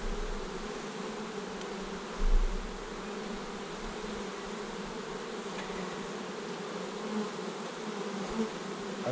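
Honeybees buzz steadily around an open hive during a beekeeper's frame inspection, a dense, even drone of many insects heard close and alone, with a brief low thump partway through.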